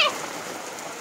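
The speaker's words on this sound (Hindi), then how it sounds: "सो फ्रेंड्स एकदम तेज बारिश हो गई है" Heavy rain pours down in a dense, steady hiss, close and unbroken for a short moment.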